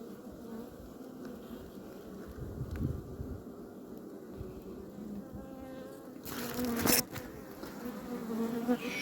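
Honey bees swarm and buzz around an opened, queenless hive, a dense continuous drone close by with some handling noise and a sharper burst of movement partway through, and no talking.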